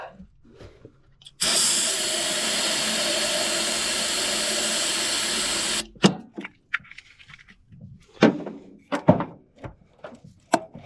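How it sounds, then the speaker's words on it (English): An aerosol can of brake cleaner hisses in one loud, steady spray lasting about four seconds. Scattered clanks and knocks of work on a Ford Mustang Foxbody follow it. "Hauling in the brake clean, folks."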